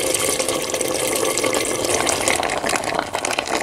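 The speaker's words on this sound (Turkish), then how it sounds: "Yani güvecin içerisine nohut ve sıcak suyu dökeceğim." Chickpeas and hot water poured into a clay casserole pot, a steady, close, continuous splashing and trickling of liquid with no talk.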